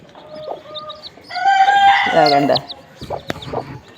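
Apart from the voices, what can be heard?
native hen clucking with her chicks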